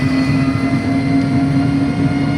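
Airplane engine drone heard from inside the passenger cabin during a flight, a steady, loud, continuous roar with a constant low hum and no pauses.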